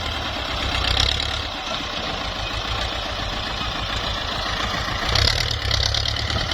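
A Ford 6610 single-axle farm tractor runs steadily and loud close by, its diesel engine holding an even idling rumble with slight swells in level.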